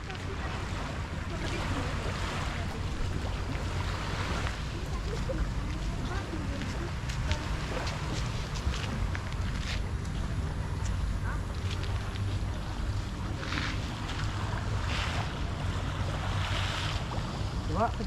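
Waves wash onto a beach shore at Labuan Bajo under constant wind buffeting the microphone, a steady rushing roar with people talking faintly beneath it.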